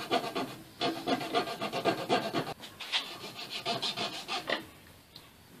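Repeated rhythmic rasping strokes of a file shaping a point on the tip of a small wooden crossbow bolt, steady back-and-forth scraping close up, with no speech.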